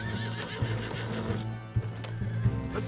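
A horse in the video game Red Dead Redemption 2 whinnies loudly and close by, over a steady clip-clop of hooves and a low background hum.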